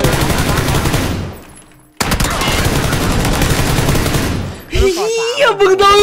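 Rapid bursts of automatic gunfire from a PUBG match crackle loudly in two long volleys, separated by a brief pause, with a voice talking toward the end.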